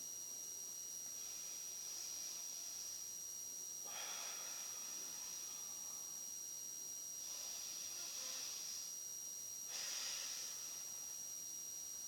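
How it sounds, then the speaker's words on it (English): Slow, exaggerated breaths during a lower-back exercise, soft hissing exhales repeating roughly every three seconds over quiet background hum, close and faint. "I'm exaggerating my breathing so you can hear me."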